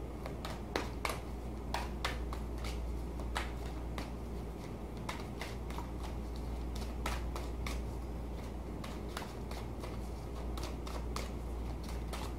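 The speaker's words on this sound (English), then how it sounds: "We'll shuffle them one more time and cut the deck." Tarot cards being shuffled by hand at close range, with quiet riffling and crisp irregular snaps and taps over a low steady hum. No one speaks.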